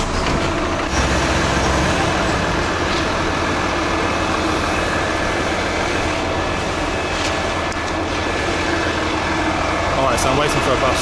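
Bus pulling up at a stop in Chamonix, a loud continuous engine rumble and road roar with a brief hiss at the start, someone speaking nearby.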